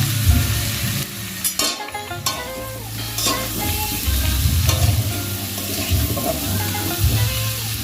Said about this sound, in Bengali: এই লাউ আর আলুকে ঢাকা দিয়ে দিয়ে ভাজতে হবে।